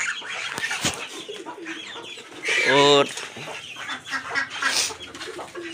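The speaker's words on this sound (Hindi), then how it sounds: "ये हमारी मुर्गियाँ" Chickens cluck and call in a busy farmyard, one loud squawk standing out, with a brief spoken word mixed in among the birds.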